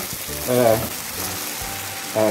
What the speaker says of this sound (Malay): boleh kita masukkan dan kita aduk-aduk siap sudah masakan mi goreng